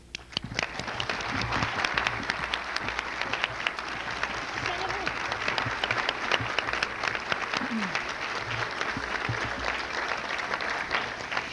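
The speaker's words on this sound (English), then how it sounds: "Will you please join me in a round of applause to thank our senatorial candidates" A crowd at a 1992 political event at the Harrisburg Hilton gives senatorial candidates a long round of dense, sustained applause, with faint voices and murmurs mixed into the clapping throughout.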